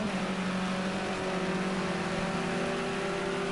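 Simulated race car engine from Project Cars 2 in a GrandAm touring series race on a final lap, a steady sustained engine drone with a held tone throughout, fairly constant and close, with no speech.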